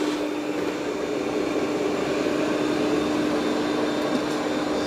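A Yeedi M12 Pro robot vacuum and mop with 11,000 Pa suction cleans muddy paw prints, giving a steady, loud whirring hum with a constant tonal whine, unbroken and alone.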